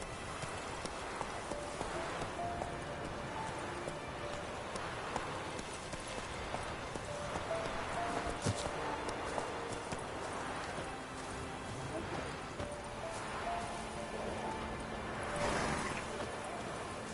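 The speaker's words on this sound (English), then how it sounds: "Whoa there, Roach" Horse hooves clip-clop steadily on the ground as the horse Roach is ridden in The Witcher 3 video game, a continuous rhythmic trot under light rain-like ambience and some talk.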